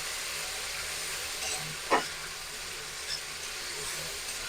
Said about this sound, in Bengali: আদা, রসুন আর জিরের কাঁচা গন্ধটা যাওয়ার জন্য একটু ভেজে নেব মশলাটা